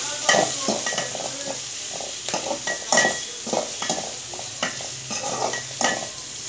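Hilsa fish frying in a pan with chopped garlic, onion and tomato: a soft sizzle under repeated scraping and clinking stirs of a utensil against the pan.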